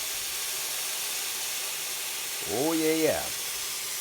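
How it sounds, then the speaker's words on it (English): Pinot Grigio white wine poured into a hot pan of wild mushroom risotto gives a steady close hiss, and someone briefly speaks over it near the end. "Add a little white wine, Pinot Grigio."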